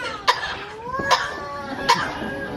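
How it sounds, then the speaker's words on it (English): A parrot at a safari park bird show gives three short, sharp coughing sounds spaced evenly apart, with faint whistled tones in between, heard close up. "A few good coughs, a bit of a treat."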